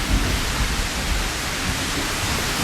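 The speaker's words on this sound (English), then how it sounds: "Oh, it's raining now." Steady outdoor rain in Iceland near a waterfall, a dense broadband wash that stays loud and even throughout with a low rumbling undertone.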